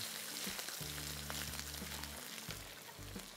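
Garlic frying in a pan as it is stirred, a dense, steady sizzle with a low hum that stops and restarts, plus scattered scraping clicks, fairly quiet and without speech.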